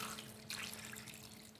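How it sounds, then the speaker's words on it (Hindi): Water poured steadily into a cooking pot holding chicken, lentils, ginger, garlic, onion and ground spices for Chinese shami kebabs, a continuous close splashing stream with faint dripping. "और इसमें पानी डाल के"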